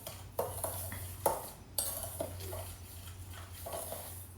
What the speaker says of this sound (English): And you mix that in to your graham cracker crust.